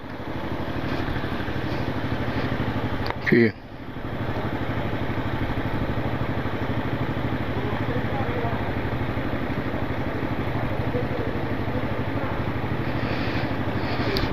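A motorcycle engine runs steadily near the camera beside a tall building, a constant low drone broken by a brief handling noise, with a short spoken word over it.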